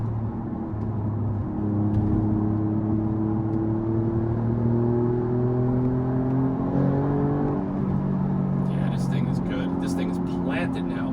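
A 2024 Alfa Romeo Giulia QV on KW DDC coilovers driven hard along a banking road, its engine droning and climbing through rising and falling revs from inside the cabin, with a person talking over it.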